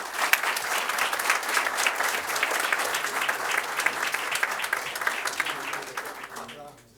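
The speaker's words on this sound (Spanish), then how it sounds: "así que de nuevo un fuerte aplauso" Applause from an audience at an award ceremony for a scholarship, dense steady clapping from many people that carries on for several seconds before tapering off at the end.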